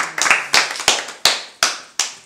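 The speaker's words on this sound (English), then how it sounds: "we all do a little clap" A small group claps together in a brief, loose burst of sharp hand claps, roughly six distinct near bursts within two seconds, each decaying quickly, with no talking over them.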